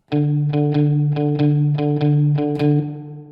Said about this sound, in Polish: Czyli gramy naśladując rytm bicia serca, czyli taki typowy bluesowy rytm.